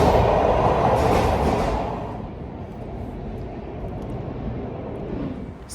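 A MARTA commuter train rumbles loudly and continuously, the broadband roar strongest for the first two seconds, then easing to a steady, slightly quieter rolling drone with no talking.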